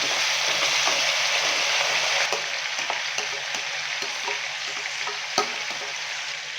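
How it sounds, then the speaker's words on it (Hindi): Beef sizzling and frying in hot oil with whole spices, stirred steadily in a karahi; a dense, continuous hiss with occasional clinks of the spoon against the pan, fairly close and with no voices. "बीफ डालने के बाद अच्छे से मिक्स करेंगे। और ऑयल के साथ हम बीफ की भुनाई कर लेंगे"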